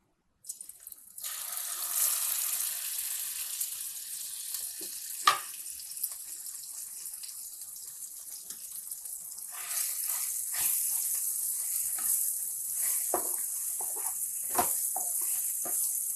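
Grated raw mango tipped into hot oil in a pan gives a steady, loud frying hiss that runs continuously, with occasional sharper crackles and pops, and no talk over it.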